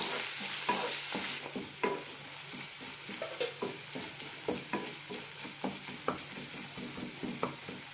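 Garlic and ginger paste frying in a pan for egg kurma, stirred with regular scraping strokes over a steady low sizzle, close and moderately loud with no voices.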